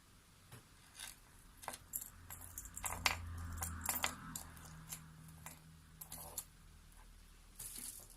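Jewelry necklaces handled close by, with light metallic clinks, jingles and small taps scattered irregularly, faint and with no talk.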